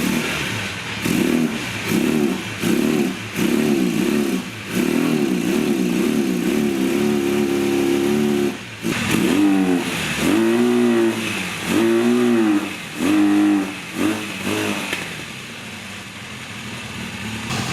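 Honda 450 Nighthawk motorcycle engine first started after sitting for years, revving in repeated bursts that rise and fall with some hesitation, loud and close, settling toward a rougher idle near the end.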